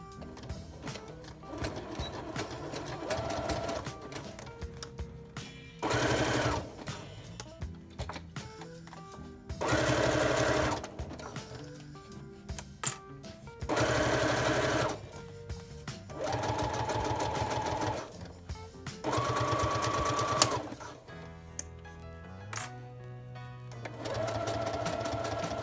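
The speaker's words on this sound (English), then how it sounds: "It's still on the zigzag stitch." A sewing machine zigzag-stitching vinyl runs in repeated bursts of rapid mechanical stitching, close and clear, with short pauses and small handling noises between runs.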